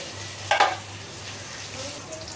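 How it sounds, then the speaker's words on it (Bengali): Onions fry in oil in a wok, a faint, steady sizzle with one brief stirring scrape near the start. "পেঁয়াজটা একটু ভাজা হয়ে গেছে"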